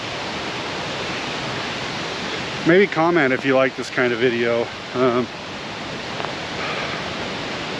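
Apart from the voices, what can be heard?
rushing creek water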